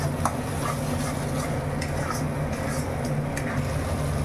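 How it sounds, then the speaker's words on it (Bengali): Prawn masala with a little turmeric being sautéed and stirred in a hot pan for chingri malaikari, a constant dense sizzle with occasional light scrapes of the spatula, close and steady. "দিয়ে আমি একটু কষে নিচ্ছি।"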